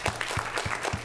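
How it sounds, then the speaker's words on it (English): Applause from an audience at a student government meeting, a short burst of steady clapping filling the room. "Can everybody give her a round of applause?"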